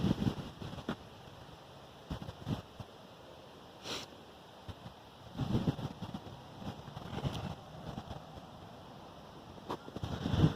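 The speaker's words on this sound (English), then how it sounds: "sorry if it's a little bit windy" Gusty wind buffets an outdoor microphone, with low rumbling bursts that rise and fall over a quiet background.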